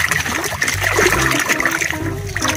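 A toy gun is washed in clean, clear water, with steady splashing and trickling running through the whole stretch, fairly close and continuous, with no talk.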